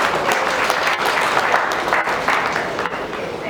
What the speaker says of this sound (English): I want us to therefore give a round of applause to DCS for this.